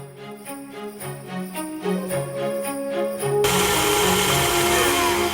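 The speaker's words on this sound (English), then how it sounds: "now we are going to put this on the stand mixer and mix it until it's light and fluffy" A stand mixer beats butter, sugar, eggs, vanilla and milk for sugar cookie dough; the motor starts up over background music, then a loud steady whirring hum takes over and holds.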